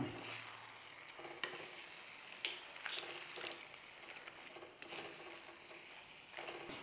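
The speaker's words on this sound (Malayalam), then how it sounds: "നമുക്ക് ഇതെല്ലാം കൂടി ഒന്ന് ഉടയാതെ മിക്സ് ചെയ്ത് കൊടുക്കണം" Crab pieces being mixed gently in a pan for a Kerala-style crab roast, with a quiet continuous sizzle broken by scattered scraping and clicking taps from the spoon.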